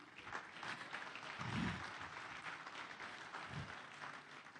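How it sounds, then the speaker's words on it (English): Audience applause at a televised forum on democracy and the free market economy in Nigeria, a steady, moderately loud patter of many hands with a few louder swells. "Please don't stop clapping."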